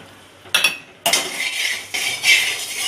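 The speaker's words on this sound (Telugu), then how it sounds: "వేసేసి ఒకసారి కలుపుతాం." Green chillies are stirred into foxtail millet boiling in a pot, with loud, close metal spoon scrapes and clinks in three separate bursts.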